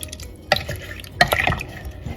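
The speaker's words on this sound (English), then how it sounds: "We're just gonna give these a good stir" Pickles are stirred in brine with a few wet sloshes and drips close by. Two clearer splashy strokes stand out over a couple of seconds, and no voice is heard.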